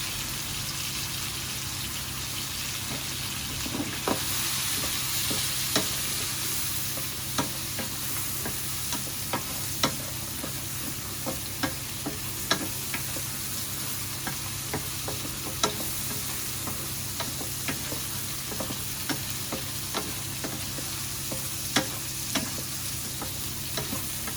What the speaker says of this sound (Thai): ทอดกระเทียมพริกไทย